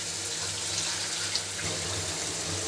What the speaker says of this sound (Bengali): আরেকটু জল, সামান্য পরিমাণে একটু জল দেবেন।